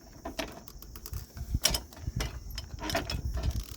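A hand-cranked forge blower with a reversing clutch, set up for casting a tomahawk, is turned by hand close by, giving irregular bursts of clicking, ratcheting gear noise and whirring.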